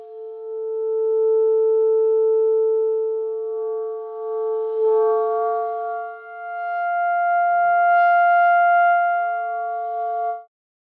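A clarinet holds a buzzy, layered multiphonic tone, shifting midway into a richer cluster of pitches before cutting off abruptly; steady and fairly loud, no talking.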